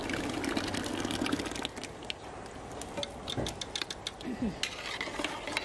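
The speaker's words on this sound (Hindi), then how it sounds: "अब जो लौकी है गल चुकी है, अब हम इसमें दाल ऐड कर देंगे जिसे हमने गला कर रखा था।" Cooked dal poured into a pot of softened bottle gourd, giving a soft continuous liquid slosh and pour with faint stirring clinks and a light sizzle underneath.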